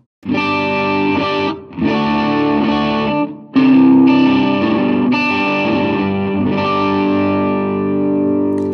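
Distorted electric guitar chords through the BIAS amp simulator ring out loud and sustained with heavy effects and reverb, played in several strummed phrases with brief gaps between.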